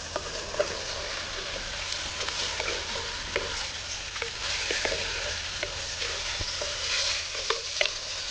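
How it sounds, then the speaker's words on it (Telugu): Steady sizzling of country chicken curry cooking in a pan, with scattered scraping taps of a spoon stirring through it; no voices. "ముక్క ఉల్లిగడ్డ పచ్చిమిర్చి అన్నీ మంచిగా కలిసినట్టు ఒకసారి మంచిగా మిక్సీ కొట్టుకుందాం"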